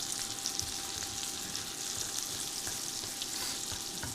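A pork steak fries in a cast iron skillet on an induction burner, giving a continuous, even, close-up sizzle and crackle that holds steady throughout without any talking.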